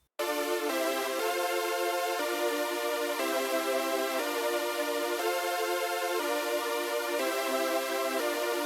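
A soloed music production tab part from Microcog plays alone, a steady sustained chordal pad for a gospel makossa praise instrumental, shifting through its chords in even bars at constant loudness after a sudden start.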